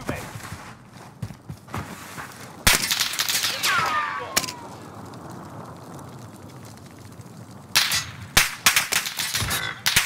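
Sharp gunshots crack out in Call of Duty: Modern Warfare multiplayer, a few isolated reports and then louder clustered bursts, with a whizzing streak and background noise, while players talk intermittently.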